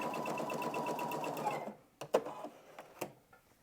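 A sewing machine runs a steady straight stitch through fabric pieces for a sustained burst, then stops, followed by a few sharp clicks and handling taps.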